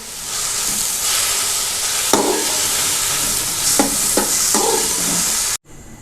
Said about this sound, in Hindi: तो अब हम इसको मज़ीद 1 मिनट तक जो है वो फ्राई करेंगे।